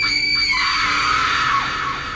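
A girl's loud, sustained high-pitched scream, a frightened horror-story cry that holds strong and steady for about two seconds before easing slightly at the end.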